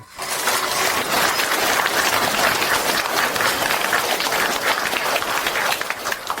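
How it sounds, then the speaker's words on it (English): Sustained, loud applause from a standing audience gathered for a lecture, dense steady clapping that fills the whole stretch without a break. "Now may I ask everyone to please stand and give a warm round of applause"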